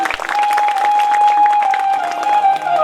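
A crowd at an outdoor religious storytelling gathering claps loudly and continuously, close and dense, with a sustained musical tone droning beneath the applause.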